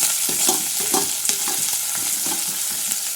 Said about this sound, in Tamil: போட்டு நல்லா செவக்க வதக்கிக்கலாம்